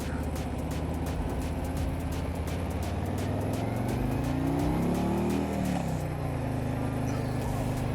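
A 2024 Harley-Davidson Ultra Limited motorcycle hums steadily under way, its engine pitch rising and then dropping as it shifts gears, with wind noise over the ride.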